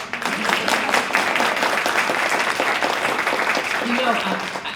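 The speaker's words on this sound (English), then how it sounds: "Applause for him." An audience applauding at a literary arts award ceremony, steady dense clapping that fills the room at an even level and fades slightly at the end, with a voice speaking over it.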